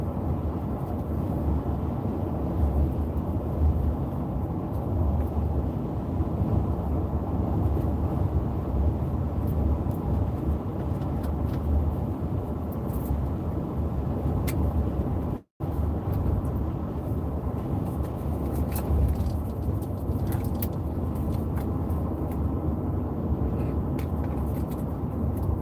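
Road traffic heard from inside a car in Fort Myers, a constant low rumbling road and engine drone with faint passing whooshes, steady throughout with one brief cut.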